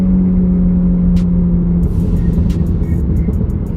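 A 500 WHP Mitsubishi Evo in third gear, heard from inside as a loud, deep engine drone with a steady tone that breaks into a rougher rumble, plus brief clicks and whooshes near the end.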